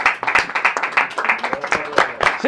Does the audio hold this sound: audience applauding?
yes